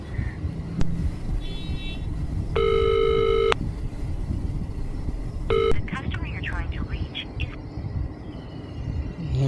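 A phone call is dialed and rings unanswered, with a few short keypad tones followed by two long buzzing ring tones, all under a steady background hum and some talk.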